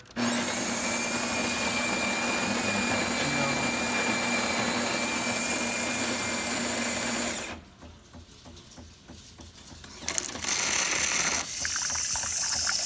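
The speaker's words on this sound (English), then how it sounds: "But you'll see how it sucks water." A Jura S9 coffee machine's freshly cleaned steam assembly sucks water in a loud, steady mechanical whirr lasting about seven seconds, then drops to a quieter hiss before a brief louder burst and renewed running.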